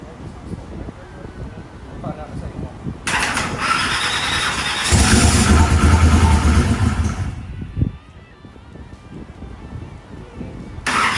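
A boosted big block Chevy engine with a stuck injector cranks hard through a loud, strained burst of starter grinding and sputtering that swells, then drops away, amid background shop noise and some talking.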